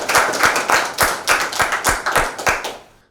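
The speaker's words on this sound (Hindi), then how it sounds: "तालियां बजाएं" Hands clap in a small, uneven burst at a Lent special Bible quiz program in Lahore. The sparse, fairly close rhythmic claps fade out after about three seconds.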